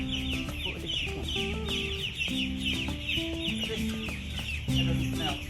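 A dense crowd of chickens clucks continuously inside a chicken farm, with many overlapping calls at close range and a constant, busy background.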